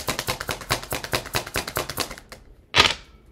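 Tarot cards are shuffled and drawn. A quick run of crisp, even card taps and flicks rattles close by for about two seconds, then a short quiet and one sharp final snap.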